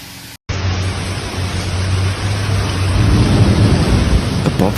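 Heavy rain from a powerful storm in Sicily, Italy, pours in a dense, loud hiss with a low rumble beneath, growing stronger after a brief silence at the start.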